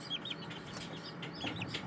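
Serama bantam chickens, a tiny breed, cluck in short chirpy bursts at a bird farm, several soft calls scattered over a steady background murmur.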